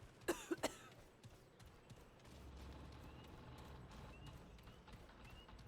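A character coughing in the video game Remnant II, with a few sharp, close coughs near the start and then a steady low rumble of game ambience.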